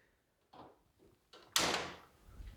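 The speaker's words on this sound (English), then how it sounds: "Super smooth closing doors on the 72-inch." A drawer on a 72-inch toolbox glides shut, a couple of soft slides leading to a firmer closing thud with a short ringing tail; close and fairly quiet, no voices.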